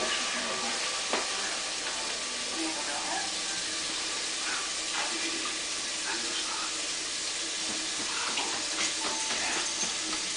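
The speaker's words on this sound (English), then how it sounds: "You're going to rinse the pan off real quick." A peanut brittle pan rinsed under a kitchen tap, a steady broadband rush of running water with small clatters of the pan, continuous and fairly close throughout.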